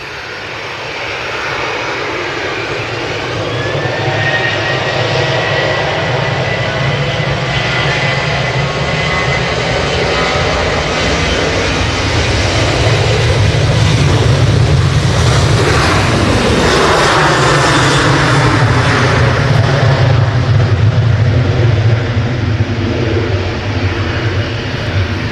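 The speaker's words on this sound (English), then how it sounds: "Ryanair 737 operated by Malta Air and it's off to Rome" Ryanair Boeing 737 operated by Malta Air taking off from Manchester Airport, a long loud jet roar building in power, with whining engine tones sweeping and a pass-by peak midway before the sound gradually recedes.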